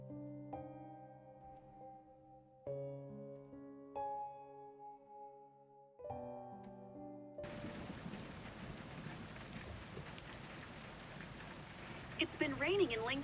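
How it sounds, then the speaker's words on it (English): Rain falls on a rainy night in the video game Love and Deepspace, a dense steady hiss that rises after a soft musical opening and carries on to the end, with no one speaking. "It's been raining in Lincoln City for the past week."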